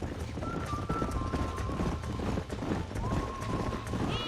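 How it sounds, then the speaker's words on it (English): Several horses gallop in the Red Dead Redemption video game, a continuous rumble of hoofbeats up close with wind and ambient game sound, steady and fairly loud. "Alright, where's these horses? There they are! Let's get after them!"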